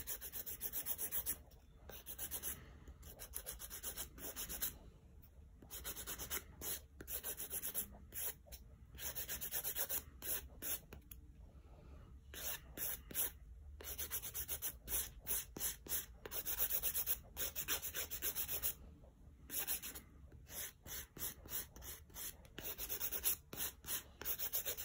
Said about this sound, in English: I start with the sidewalls first, holding the file at 90 degrees to the nail